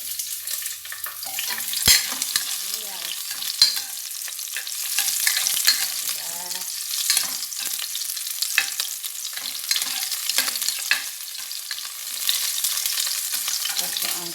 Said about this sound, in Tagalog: Lagyan na natin itong sibuyas.